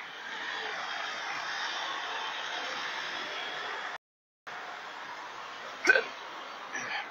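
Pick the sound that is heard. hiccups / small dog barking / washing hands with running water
hiccups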